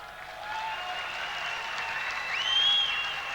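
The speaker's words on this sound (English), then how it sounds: "Acknowledgement from the crowd for Advance Australia Fair." A stadium crowd at a 1990 France v Australia rugby test applauds after Advance Australia Fair, a steady wash of clapping and cheering heard from a distance with a few whistles rising above it.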